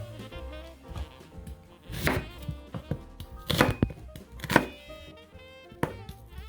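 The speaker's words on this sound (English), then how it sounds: "Onions I cut into nice little tight wedges." Knife chopping onions into tight wedges on a board for chestnut and butternut squash soup, a few sharp close thunks and cuts standing out over a humming kitchen background.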